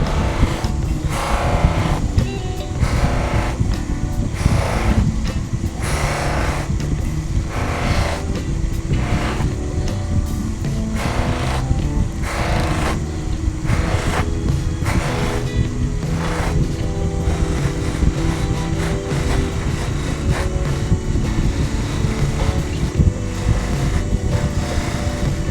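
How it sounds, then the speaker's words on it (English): Buffing wheels polish small wood-turned pendants with pure carnauba wax, giving a loud, steady motor whir and rumble that runs throughout with a faint rhythmic pulsing. "Just load the wheels up lightly and then polish the pieces."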